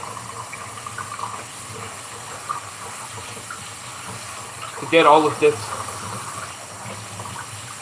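Tap water runs steadily into a bowl in a kitchen sink, a low continuous rush heard close by, while someone says a few words partway through.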